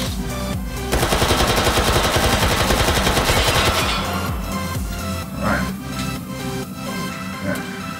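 AKS-74U rifle fired in the VR shooter H3VR: a loud, rapid full-auto burst starting about a second in and running near three seconds, followed by ringing reverb and scattered handling clatter and shell-like tinkles.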